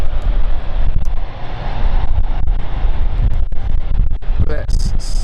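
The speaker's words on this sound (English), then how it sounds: "we've got German Airways about to go very soon" A German Airways passenger jet at London City Airport, its engine roar steady and loud throughout, heard from a distance with wind noise on the microphone.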